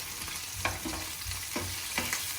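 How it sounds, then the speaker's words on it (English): Anchovies, garlic and red hot chili peppers sizzle steadily in oil in a pan, a constant frying hiss broken by a few soft stirring scrapes, close and alone. "I'm going to go ahead and melt down my anchovies in my pan, with a clove of garlic and some red hot chili peppers"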